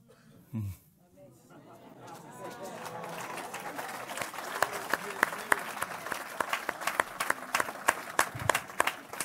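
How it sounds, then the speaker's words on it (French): A church congregation breaks into applause that swells from near-quiet into sustained clapping with sharp individual claps. Cheering and chatter mix in, and a voice is heard briefly at the start. "Et il mérite les acclamations, le Seigneur."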